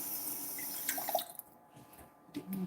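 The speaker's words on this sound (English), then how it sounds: "you're going to need some water to this" Water runs briefly from a tap into a kabocha squash pie mixture, a short splashing pour at close range with faint drips afterward and no talking.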